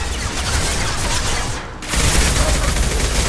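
Dense sustained gunfire in the sci-fi shooter Mass Effect 2, a loud continuous rattle of weapons fire that briefly drops out and then returns even heavier, with no clear voices over it.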